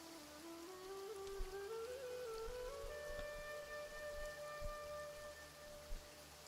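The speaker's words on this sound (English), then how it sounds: "Marching in the rain conceals the sound of our arrival, but is also a test of stamina." Steady light rainfall in the video game Genshin Impact, a quiet continuous patter with a few soft droplet taps, while faint sustained tones glide underneath; no talking.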